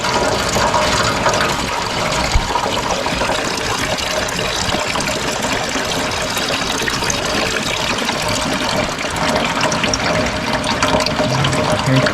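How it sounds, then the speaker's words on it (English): Water mixed with oil pours and splashes steadily out of the drain of a Honda ATV engine left rotting outside for years, a continuous close trickling gush with no talking. "That thing is full of water."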